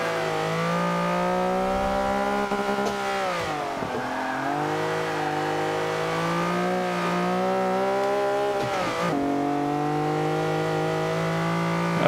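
A Lamborghini Countach with an upgraded engine runs a racing lap, its engine note loud and continuous, rising and falling through gear changes, with one or two sharp dips.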